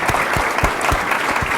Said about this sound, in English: Let's give Ms. Casey a round of applause.